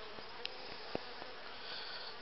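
Honey bees buzz steadily at a crowded hive in an apiary in May, a soft, even drone running throughout with a few faint clicks and brief sharper buzzes of bees flying close.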